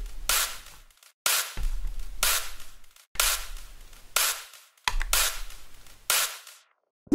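Snare drum hits in a mix with their transients limited, a steady pattern of sharp cracks with short decays, about two per second, dry and close with no voices.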